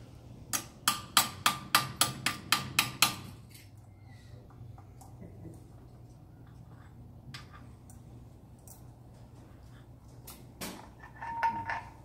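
A hammer knocks a part down on a Nissan CVT transmission in a workshop: about nine sharp, evenly spaced taps close up, then quiet with faint clinks and a few more knocks at the end.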